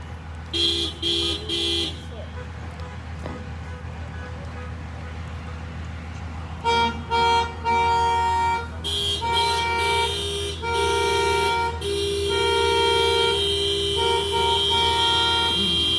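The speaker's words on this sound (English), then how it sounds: "blowing her horn at them inside" Car horns honk repeatedly at a street protest in Anchorage, in short bursts and longer sustained blasts over steady traffic and crowd noise, growing louder and more continuous toward the end.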